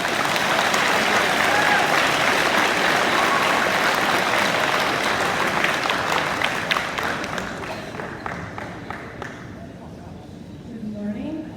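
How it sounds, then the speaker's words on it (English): A school auditorium crowd claps for students at an awards day, loud dense applause with scattered voices underneath that gradually thins and fades toward the end. "Let's give these students a round of applause."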